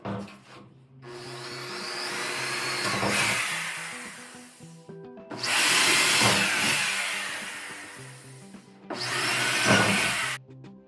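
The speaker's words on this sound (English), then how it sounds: "So let's just start drilling holes, I guess." Power drill boring holes in a climbing wall board, three long whirring bursts separated by short pauses, loud and close with no talk.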